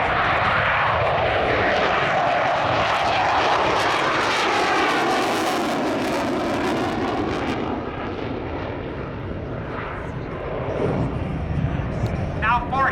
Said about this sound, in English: He's going to touch and go.